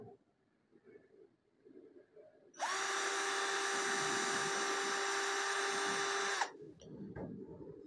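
A Nanwei cordless drill in drilling mode on speed setting 1 spins up with a steady high whine for about four seconds, close and loud, then stops abruptly, leaving a quiet room.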